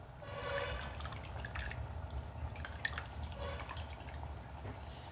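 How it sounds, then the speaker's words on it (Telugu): Tamarind water poured into a pot for thotakura palakura pulusu, producing close, gurgling splashes and drips that come in uneven bursts over a few seconds. "ఇప్పుడు చింతపండు నీళ్ళు పోస్తున్నానండి."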